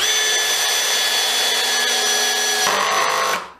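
A Hitachi DV 18DBFL2 cordless drill drives 50 by 5 screws into wood, a steady whining motor run that shifts pitch near the end before abruptly cutting off.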